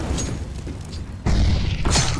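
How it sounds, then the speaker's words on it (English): Grenade blast in a CS:GO match, a heavy booming burst that hits abruptly partway through and rumbles loud, followed by a second thump shortly after. "I am throwing a grenade"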